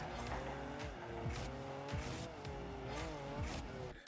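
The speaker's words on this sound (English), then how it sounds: "That's quite the engine sound there. That's a mean sounding octane." Octane car engine in Rocket League, a loud, continuous buzzing roar with rising and falling revs and occasional tire squeals, steady throughout with no talk.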